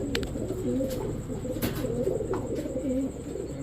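Soft, low pigeon coos repeat steadily against a constant background hum, with a few faint chirps mixed in, among pigeons kept for sale.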